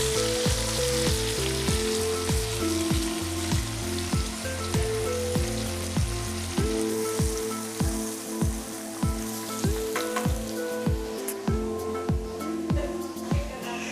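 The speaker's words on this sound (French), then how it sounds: "Je remets mes oignons et l'ail" Onions and garlic fry in a pan with a steady, close, crackling sizzle, alongside a regular run of soft taps and scrapes, and no one speaks.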